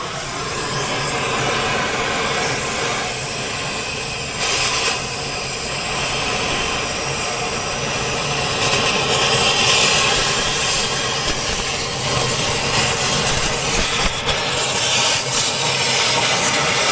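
An oxypropane cutting torch burns with a steady, loud roaring hiss, a broad continuous rush that holds for the whole stretch with slight swells and no talking.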